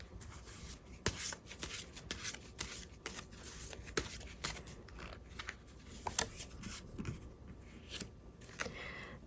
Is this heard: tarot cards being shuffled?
yes